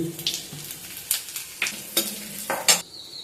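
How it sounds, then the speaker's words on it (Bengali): Dry red chillies, cumin seeds and asafoetida hitting hot oil for a potato curry, giving a brief crackling sizzle punctuated by several sharp spoon clinks against the pan. "এবার এর মধ্যে দিয়ে দিচ্ছি আমি 3টে শুকনো লঙ্কা, 1/2 চা চামচ জিরে আর সামান্য একটু হিং"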